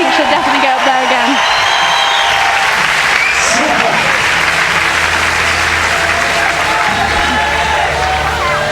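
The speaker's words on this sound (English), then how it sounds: "You can hear the cheers." Crowd at a European Championship bouldering semi-final in Innsbruck, 2015, cheering and applauding steadily throughout, a dense roar of clapping and whoops with a commentator's voice partly audible over it.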